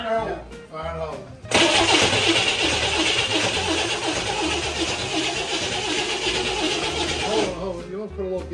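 A 60-plus-year-old Chevrolet Corvair engine that had not run in five years fires up and runs roughly for about six seconds at a loud, close rumble before cutting out, with voices talking before and after.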